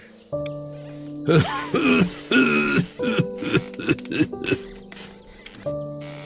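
A person coughs in a fit of several harsh bursts, pausing between them, against a steady background hum.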